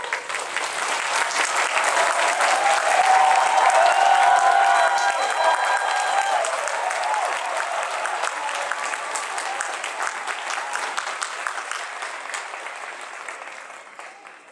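Sustained audience applause at an outdoor starry-sky concert, greeting a youth symphony orchestra, a children's choir and their conductor. Dense clapping swells over the first few seconds, holds steady, then fades toward the end.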